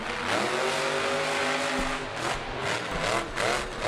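A monster truck revs hard at a Monster Jam freestyle event in Anaheim, California, 2014, its engine roaring and surging in repeated loud bursts with arena echo and no talk.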